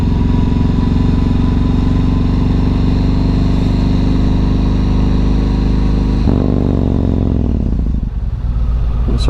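Yamaha MT-01 motorcycle engine rumbling loud and steady on a ride through North Somerset, a deep throbbing V-twin drone that dips in pitch as the bike slows near the end.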